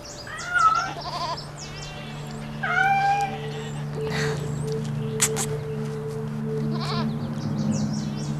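A cat gives several short meows with rising and falling pitch, moderately close, over a steady low hum of background noise, with no one speaking.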